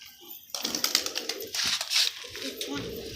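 Pigeons coo and flutter nearby in a rough, busy mix of bird sounds, with someone speaking over them.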